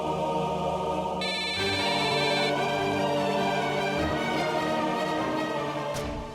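A telephone rings steadily and loudly in a home during a family drama, the electronic ringtone repeating alone with no talk over it.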